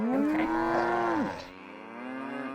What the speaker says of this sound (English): Oh my gosh, the cow noises.